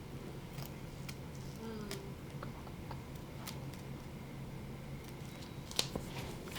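Scissors snip excess tape on a pediatric oral endotracheal tube in a NICU setting, a few faint, brief clicks and cuts over a low steady background hum.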